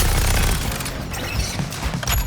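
Cannon firing sequence from a boss's beam cannon in the action game Suicide Squad: Kill the Justice League, heard as a loud, continuous barrage of booming, crackling blasts with dense low rumble throughout.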